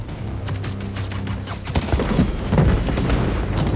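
Fireworks burst in Marvel's Spider-Man 2, a run of booming, crackling blasts that grows louder and denser over a few seconds against an ongoing game soundscape.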